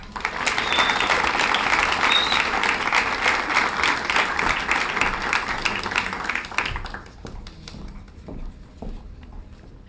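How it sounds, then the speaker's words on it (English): A graduation ceremony audience gives the class of 2025 loud, sustained applause that fades into scattered claps after several seconds. "And now for that applause you haven't been holding. To the class of 2025."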